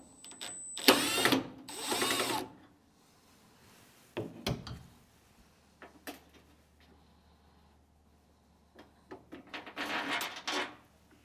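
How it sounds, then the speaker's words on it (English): A T20 screw being backed out of a Frigidaire range door handle, heard as short close metallic clicks and ratcheting turns in separate bursts with quiet gaps between, no speech. "While holding the handle with one hand, remove one of the T20 screws."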